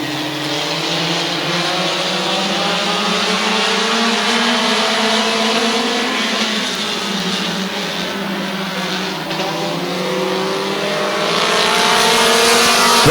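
Race cars roar away together at the green flag of an 8-lap heat race at Midvale Speedway, a loud, steady engine drone with rising and falling pitch as the pack accelerates, swelling louder toward the end.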